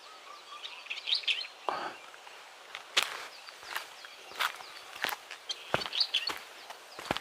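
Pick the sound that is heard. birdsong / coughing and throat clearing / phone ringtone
birdsong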